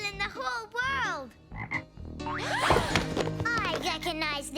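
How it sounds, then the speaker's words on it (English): Cartoon frog croaking in a children's animation, a series of loud, bouncy, pitch-sliding croaks mixed with playful sound effects, a crash of toppling blocks midway, no speech. "I recognize this frog."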